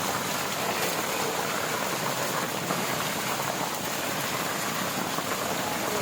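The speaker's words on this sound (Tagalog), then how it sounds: "Grabe, lakas na ng ulan." Heavy rain pours down in a dense, unbroken roar, loud and steady throughout with no voices.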